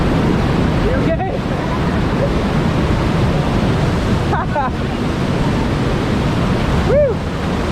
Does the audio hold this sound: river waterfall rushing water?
yes